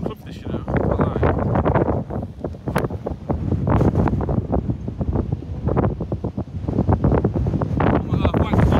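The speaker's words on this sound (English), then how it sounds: "The wind's crazy." Strong gusting wind buffets the microphone on a golf course, a loud continuous roar and rumble that runs almost unbroken for nearly nine seconds.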